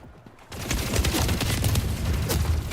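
Video game gunfire breaks out after a brief quiet moment and continues as a dense, sustained volley of rapid shots.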